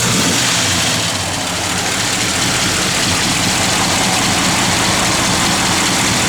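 A 1967 Plymouth GTX with a lumpy aftermarket cam idles loudly and close by, its rough, steady rumble filling the whole stretch with no talking over it.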